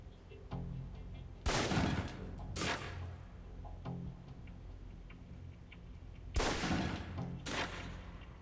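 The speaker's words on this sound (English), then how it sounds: "Equip the pistol, then aim down range and take some shots at the target." Pistol shots fired at a target on an Alpha Protocol practice range, several sharp cracks spaced a second or more apart, some in quick pairs, against quiet background.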